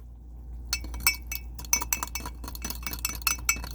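A fork whisking a flour paste in a small bowl in a boat's galley, giving rapid, irregular close clinks and taps against the bowl after a brief quiet start.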